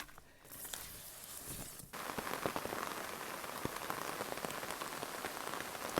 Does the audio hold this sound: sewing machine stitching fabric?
no